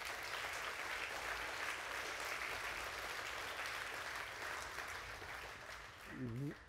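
Steady audience applause at a chiropractic summit, a fairly distant, even wash of clapping that holds throughout, with a brief tonal sound near the end.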